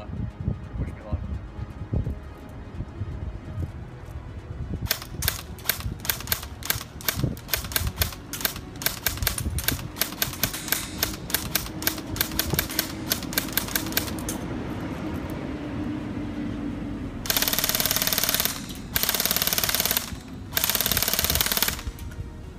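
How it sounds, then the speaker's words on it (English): An Echo1 GAT airsoft gun firing BBs at white targets: a long run of fast, sharp, evenly spaced clicking shots, then several short, loud full-auto bursts with gaps between them, over a steady background rush. "We're just going to be shooting at the kind of white things down there."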